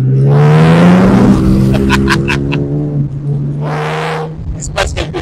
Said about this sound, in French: Je peux vous dire que quand on accélère,